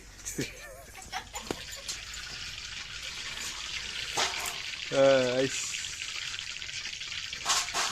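Food sizzling in hot mustard oil, a steady hiss and crackle of frying with occasional louder spatters, heard under ongoing conversation.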